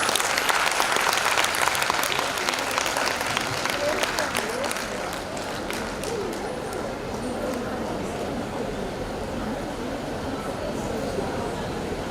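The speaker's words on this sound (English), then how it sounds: "Can we have a big round of applause?" A large audience at a golden jubilee valedictory function breaks into a big round of applause, dense clapping that stays loud and steady throughout, with some voices mixed in.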